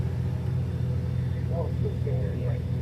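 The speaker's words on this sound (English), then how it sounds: "on the bus to the airport to go home." Bus driving to the airport in Agadir, with a steady low engine rumble and road drone filling the cabin, while a voice speaks briefly over the constant hum.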